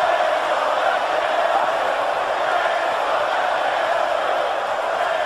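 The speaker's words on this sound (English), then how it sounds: "This crowd is into it, man. You can hear them. Some of them chanting for Bray Wyatt" Dense, steady crowd roar from a WWE 2K19 wrestling video game match between Bray Wyatt and Goldberg, a continuous wash of cheering and chanting filling the arena at full loudness with no pauses.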